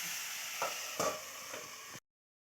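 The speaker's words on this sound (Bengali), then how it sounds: "এবার আমি ঢাকা চাপা দিয়ে ভালো করে ভেজে নিচ্ছি" Cauliflower and potato pieces fry in plenty of oil over a low flame in a covered pan, giving a steady, close hiss with a few soft knocks, cut off abruptly after two seconds.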